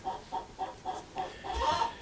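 Hens cluck in a steady rhythm of short bursts, roughly four to five calls about half a second apart, ending in a longer, louder squawking phrase like an egg-laying song, close and clear with no talk.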